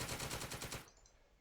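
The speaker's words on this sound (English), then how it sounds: "More tank machine gun fire." A tank's machine gun in the war game Second Front fires a rapid, loud burst of evenly spaced shots, then stops and leaves a short fading tail with no voices.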